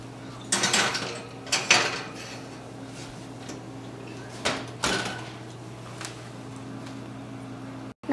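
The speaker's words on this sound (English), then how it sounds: "Now put your lovely treats into the oven." Oven door opening and closing with mechanical clicks and clatter as honey treats for hamsters go in to bake at 300 degrees, several sharp knocks and rattles over a steady kitchen hum.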